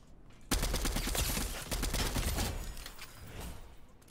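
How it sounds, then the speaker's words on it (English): Rapid gunfire in the video game Fortnite bursts in suddenly and rattles on as a dense fusillade of repeated shots, loud and continuous before tapering slightly near the end. "Why are they shooting at us?"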